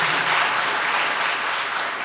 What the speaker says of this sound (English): Yeah, you can applaud for that.